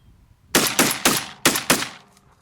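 A Tristar Raptor 12-gauge semi-automatic turkey shotgun fires five loud, sharp blasts in quick succession, with a short pause after the third, each report close and ringing out briefly.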